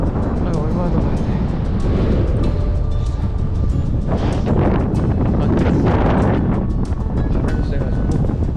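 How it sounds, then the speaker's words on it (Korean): Strong wind roars and buffets the microphone continuously at sunrise in Sesriem National Park, Namibia, a loud rumbling gust that never lets up, with muffled voices partly buried beneath it. "바람이 세가지고"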